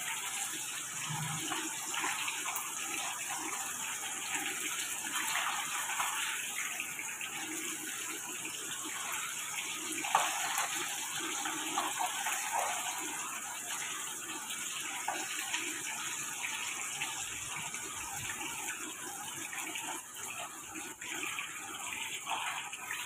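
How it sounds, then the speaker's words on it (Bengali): Battered prawns, dipped in batter a second time, fry in hot oil with a loud, continuous hiss and sizzle that holds steady throughout. "এটাকে আবার ব্যাটারে ডুবিয়ে আর একবার ভাজতে দিচ্ছি।"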